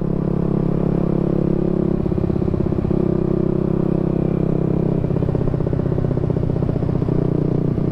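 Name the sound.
motorcycle engine with aftermarket exhaust and V-Power filter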